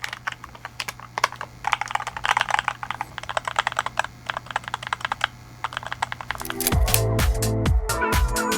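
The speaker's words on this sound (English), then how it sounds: "So typing on this feels quite a bit stiff." Quick, crisp keystrokes on a MADLIONS NANO68 with magnetic linear switches and an aluminum plate, a steady close clatter of clicks that turns into faster, denser and louder typing near the end.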